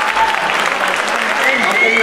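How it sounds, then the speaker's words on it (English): Applause from an audience filling the whole stretch, a dense steady patter of many hands greeting a man pulled up onto the stage at a thank-you event. "Please, a big round of applause."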